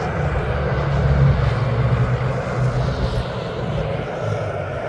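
A Jet2.com airliner rumbles with a steady, broad jet-engine roar at East Midlands Airport. The sound is moderately loud and stays fairly constant throughout.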